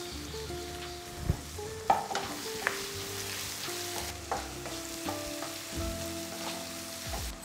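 Sliced onions and green chillies with a little ginger garlic paste sauté in a hot pan. A steady close sizzle runs under scattered spoon scrapes and stirring knocks, with no voices.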